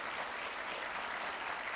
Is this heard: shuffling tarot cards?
no